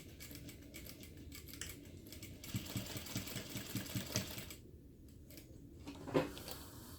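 Sewing machine running a backstitch through fabric on a crossbody bag seam: a steady close mechanical whir with a brief bright clack near the end, no talking.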